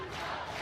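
Crowd noise at a college softball game between Oklahoma and Arizona, a brief, faint burst of distant cheering and shouting from the stands.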